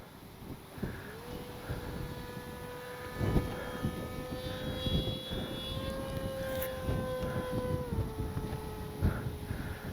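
An H-King Skipper RC airplane flying on a windy day, its steady electric motor whine holding through the pass and shifting pitch as the throttle changes, heard alone at moderate distance.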